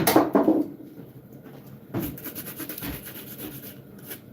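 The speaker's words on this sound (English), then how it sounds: "I'll just use one of my sanding tools" Abrasive rubbing scrapes back and forth in uneven strokes, close by, like a sanding tool smoothing an edge.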